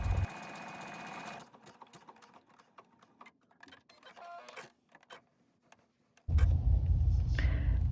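A sewing machine with a buttonhole foot sews a buttonhole, giving a steady mechanical whir up close. Quiet clicks and handling follow before the machine starts again loudly.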